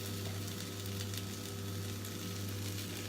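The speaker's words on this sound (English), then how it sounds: "Add the broth and listen to the sizzle." Constant hissing sizzle of broth hitting a hot pan while cooking vegan paella, steady and close, with a low hum underneath and no talking.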